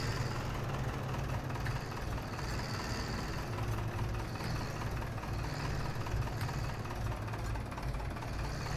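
A tractor in Farming Simulator 17, on the Watts Farm map with the Seasons mod, holds a steady, rumbling engine idle that stays even and close throughout with no talk.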